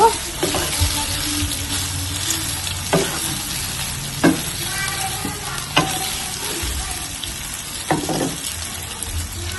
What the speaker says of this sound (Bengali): তারপর দিয়ে দিতেছি নুডলসগুলা এগুলোকে মিক্স করে নেব